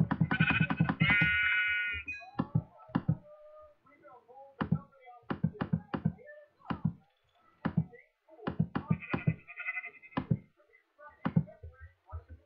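Sheep in Minecraft bleat in two clear wavering calls, one at the start and one later, amid a steady run of short clicks and thumps from gameplay.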